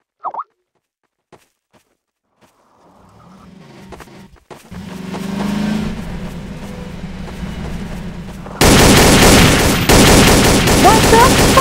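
Gunfire in an online shooter video game rattles in dense, rapid bursts, building from scattered pops into sustained loud automatic fire that dominates the end.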